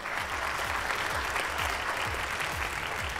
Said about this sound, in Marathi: एकदा जोरदार टाळ्या व्हायला हव्यात.